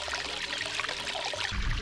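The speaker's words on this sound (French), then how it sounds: "on la renvoie en tangente dans le bas du vortex, ça remplit la colonne d'eau" Continuous rushing, swirling tap water churning in a vortex column, steady and close, with a deeper surge near the end.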